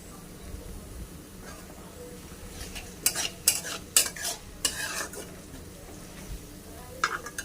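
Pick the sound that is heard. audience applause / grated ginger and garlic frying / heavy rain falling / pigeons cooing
grated ginger and garlic frying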